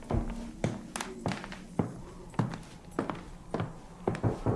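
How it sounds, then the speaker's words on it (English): Knocking coming from downstairs in a house in a video game, a series of sharp irregular knocks, about a dozen hits in uneven clusters, fairly close and clear, with no talk. "I hear a knocking."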